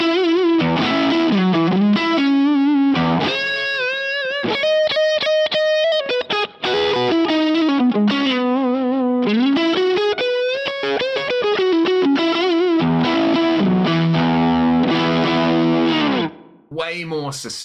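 An electric guitar played through an ODS amp model gives a high-gain lead tone: loud, distorted and sustained, with bending, singing single notes and fast runs, heard alone without talk.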